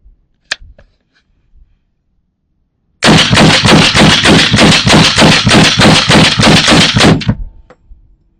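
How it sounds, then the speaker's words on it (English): A Colt M5 carbine fires a rapid string of about a dozen sharp, loud shots in a steady rhythm outdoors, preceded by a single faint click and quiet before the string begins. "We're just going to keep firing it up with this Colt, man."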